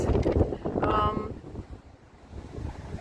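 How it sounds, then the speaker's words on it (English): Wind buffets a microphone outdoors at Rochester Castle, strong low rumbling gusts that are loudest at first and then ease off, with a voice briefly heard among them. "The wind is being naughty."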